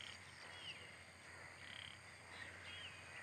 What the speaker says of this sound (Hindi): ये मेंढक की आवाज़ है।